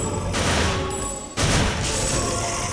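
Gunfire in the video game Timesplitters, a loud, dense barrage of shots and impacts that runs through the whole stretch with a brief dip partway before resuming.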